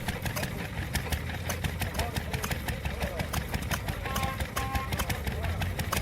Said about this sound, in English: Jaeger open crank stationary engine with Lister H3 pump, exhibited at Fluckburg Steam Rally 2025.